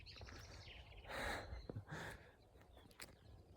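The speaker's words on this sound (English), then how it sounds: "Just birds chiming." Faint bird chirps and tweets scattered across a quiet outdoor background, with a couple of soft breathy gusts in between.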